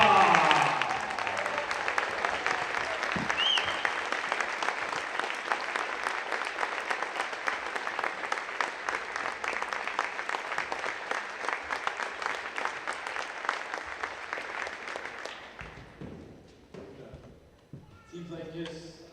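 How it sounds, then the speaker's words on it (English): Sustained crowd applause and cheering in a gym at a boys' high school basketball senior night, loud and dense for about fifteen seconds before fading out, with brief voices near the end. "let's give these senior players and parents one more big round of applause."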